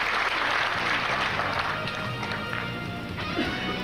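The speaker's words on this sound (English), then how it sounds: "And the crowd gives him a very warm reception for that victory." A crowd applauds after a victory in the 1995 8-ball pool final between Efren Reyes and Jeff Carter: dense, steady clapping fills the hall and fades slightly toward the end.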